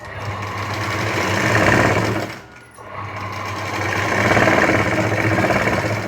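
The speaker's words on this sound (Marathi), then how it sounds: "तर आता आपण हे शिवून घेऊ" A sewing machine stitches a puff sleeve, running in a steady fast whir that drops briefly for a moment partway through before resuming loud and continuous.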